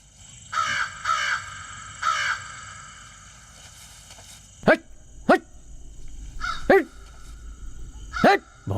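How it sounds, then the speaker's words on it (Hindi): A crow caws three times, then a dog barks sharply several times in irregular bursts nearby. "उस रोज पूरी रात कौवा काव काव कर रहा था"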